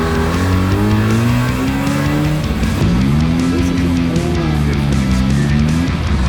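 A Datsun fitted with a Bridgeport-ported rotary engine accelerates hard, its loud, buzzing exhaust note climbing through the revs, dipping at a shift near the middle and rising again, close and continuous throughout.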